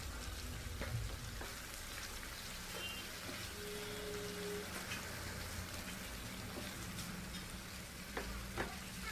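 Chicken liver with tomato and chilli sizzles and crackles steadily as it is stir-fried in a hot pan, with occasional scraping stirs and light clinks of a utensil.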